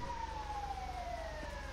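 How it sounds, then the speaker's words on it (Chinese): An ambulance siren in the video game GTA5, with a single steady tone slowly falling in pitch over a low rumbling engine hum, faint and continuous with no talking. "救护车来了，救护车来了"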